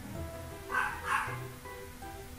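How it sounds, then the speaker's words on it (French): A dog barks twice in quick succession, moderately distant and fairly faint, over a low background hum during a Pokémon gameplay session. "je sais qu'il y a un chien qui aboie"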